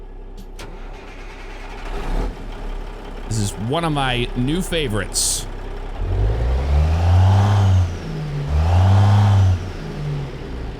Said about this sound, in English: Also using Z-Mod's new N14 sound set. I'm gonna go ahead and fire it up now so you can listen to it.